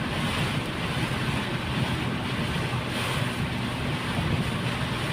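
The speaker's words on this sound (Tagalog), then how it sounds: "Lakas ng hangin." Strong typhoon wind roars and buffets the microphone continuously, a heavy steady rush with low rumble and no voices.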